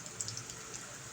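Heavy rain pours down in a dense, steady wash with a few faint drips standing out near the start, filling the short stretch without any voices.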